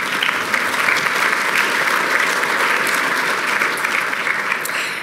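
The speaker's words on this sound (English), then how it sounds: "Can we get Debbie a round of applause?" Applause from a large lecture audience at the Bob Rose Lecture, a loud, dense and sustained roar of clapping from a packed room, even throughout with no voices.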